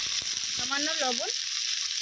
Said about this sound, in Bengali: এবং অল্প হলুদ গুঁড়ো দিয়ে ভেজে নেব।